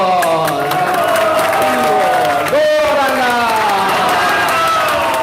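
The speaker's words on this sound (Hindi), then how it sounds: "तो जब ताली बजाते हैं हरि बोल" Devotees at an ISKCON kirtan clap in rhythm under loud chanting and a sung voice, the clapping blending into the devotional chorus throughout.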